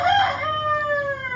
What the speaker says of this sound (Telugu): మా కోడిపుని చూసిరా కూర్తా ఉంది.